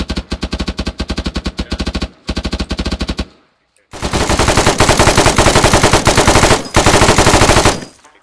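Automatic weapon fire in the military simulation game ArmA 3 during a raid, with loud, close, rapid bursts that stop briefly and then resume as longer sustained volleys.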